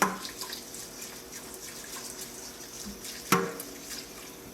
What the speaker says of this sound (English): So you rinse it and then you drain the water out the best you can.